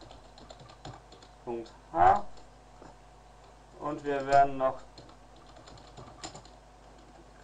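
Computer keyboard keys tap in short bursts while writing a C Hello World program in Eclipse, soft close clicking mixed with someone speaking German over it.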